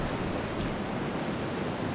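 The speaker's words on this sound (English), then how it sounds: "The Baril Creek is flowing really good." Baril Creek running strongly along a small delta under a bridge in a mountain pass, a steady loud broadband rush of water with no breaks, close by and alone.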